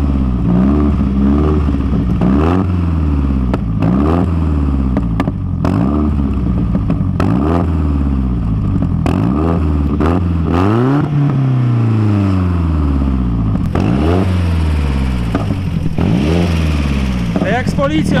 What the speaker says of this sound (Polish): Jakbyś go odpalił, posłuchamy trochę tego przelotu